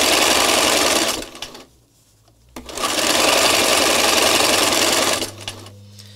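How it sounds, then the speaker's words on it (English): Domestic sewing machine free-motion stitching a flower petal in craft work, running in two loud sustained bursts of rapid needle chatter separated by a short quiet pause, then a low hum as it slows. "So I'm just repositioning each time and then stitching a petal or a scallop."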